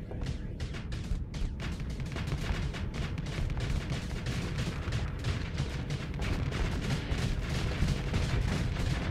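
Annihilator weapons firing in a Starsector space battle, a steady, dense stream of rapid booming impacts and blasts that holds loud for the whole stretch with no voices.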